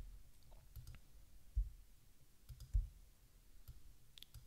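A computer mouse clicks several times. The clicks are soft and sparse and sit close against a low background hum, with two slightly louder thumps among them.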